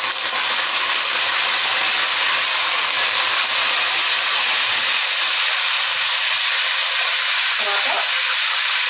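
Curry leaves crackle in hot oil, producing a loud, dense, continuous hiss and sizzle that fills the pan close up, with no voices.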